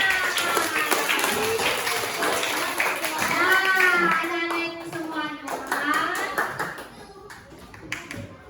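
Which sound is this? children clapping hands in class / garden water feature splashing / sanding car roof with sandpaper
children clapping hands in class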